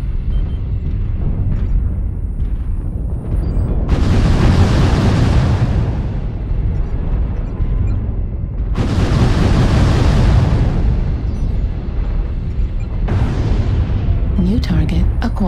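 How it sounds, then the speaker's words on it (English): Airstrike explosions in the MechWarrior Online video game, three long, loud rumbling blasts spaced several seconds apart over a steady low mech hum, with brief synthetic voice callouts. "Airstrike activated."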